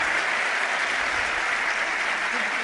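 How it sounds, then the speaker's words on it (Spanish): An audience applauds a guest on a Spanish television show, a dense, steady wash of clapping that stays even and loud throughout. "Os pido un aplauso para él, Jesús Callejo, nuestro primer invitado."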